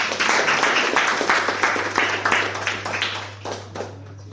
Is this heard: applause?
yes